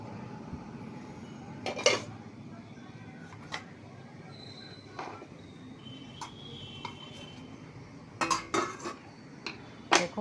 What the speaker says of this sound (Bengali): ঢাকাটা এবার খুলছি।